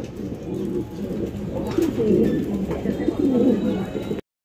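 Pigeons coo in soft, throaty repeated phrases close by in a bird-keeper's collection of fancy pigeons, with faint background murmur and no clear talk, ending abruptly in silence.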